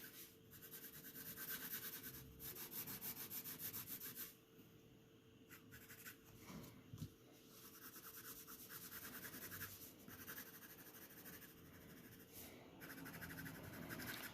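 A pencil shades and blends across paper in long, continuous scratchy strokes that stay soft and close, broken by short pauses, with no voices.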